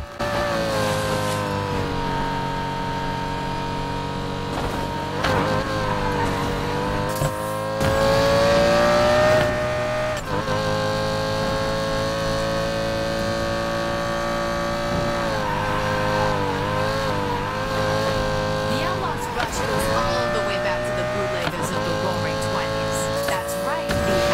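Race car engine from the NFS Payback video game, droning steadily with shifting revs and tire noise through a crash and a series of flips, loud and continuous throughout.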